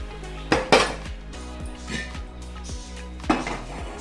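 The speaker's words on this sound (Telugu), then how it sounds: "స్టవ్ మీద ఒక పెన్నం పెట్టుకొని హై ఫ్లేమ్ మీద 5 నిమిషాలు వేడి చేయాలి" A pan set down on a stove gives a few sharp metallic clanks and knocks, the strongest near the start and another near the end, against a low steady hum, with no voices.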